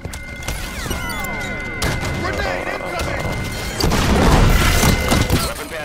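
An enemy grenade explodes amid video game gunfire, sharp bursts and shattering crashes over a busy battle mix, with a heavier blast swelling near the end.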